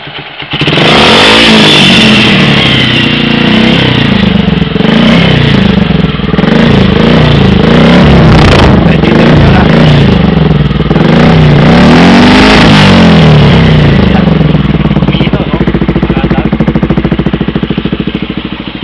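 A Kawasaki Rouser motorcycle fitted with an energy-enhancing upgrade revs hard close up, its engine rising and falling through repeated throttle blips in a loud, sustained roar.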